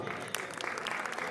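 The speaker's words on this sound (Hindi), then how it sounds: "उनके लिए बहुत सी तालियां" An audience at a lifetime achievement awards ceremony applauds an award sponsor, a steady wash of clapping with a few louder claps near the front.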